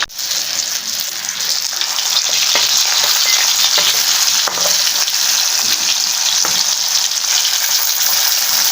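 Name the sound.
pomfret (vaaval) fish frying in oil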